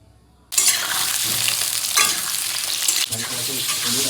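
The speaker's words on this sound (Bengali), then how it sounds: "আলু ভাজা কমপ্লিট" New potatoes hit hot oil in a wok and break into a loud, dense sizzle that continues steadily, with the scrape of stirring rising over it now and then.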